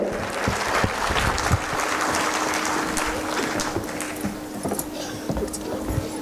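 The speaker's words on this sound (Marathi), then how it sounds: "टाळ्यांचा कडकडाट फार कमी येतोय." Audience applause at a Women's Day felicitation event held by a civic organisation in Pimpri Chinchwad, a steady wash of clapping from a gathered crowd sustained across the whole stretch with no speech over it.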